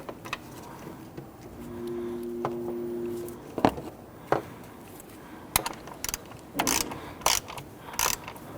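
A ratchet tightens the starter's center bolt on a 2011-2015 Kia Sorento, with short clicking bursts and clanks close by, scattered between quieter pauses and a brief steady hum.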